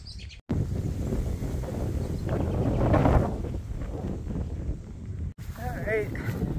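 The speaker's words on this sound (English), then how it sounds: "A little bit of a windy summit" Gusty wind roars across the microphone on the summit of Bromley Mountain at the top of a ski trail, a loud, steady low buffeting that drops out briefly near the start and end.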